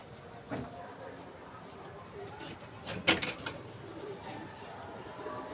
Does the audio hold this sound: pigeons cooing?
yes